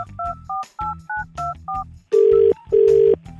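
A telephone number dialed on a keypad: a quick run of about eight crisp DTMF beeps followed by two longer, louder tones, close and clear with no talking.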